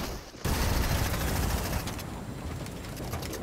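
Dense burst of automatic gunfire in the Fortnite video game, a loud rattling volley starting abruptly and continuing steadily with sharp mechanical clatter throughout.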